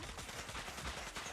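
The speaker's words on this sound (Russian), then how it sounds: "Это Дона выстрелила вместе со мной или что?" Rapid gunfire from the Zooba battle game, a fast burst of shots in quick succession, fairly faint and mixed with dense game sound.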